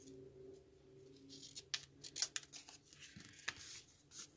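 Scissors snip through paper beside heavy tape while paper pumpkin card crafts are assembled: a few short, crisp cuts land close and clear, set apart by quiet pauses.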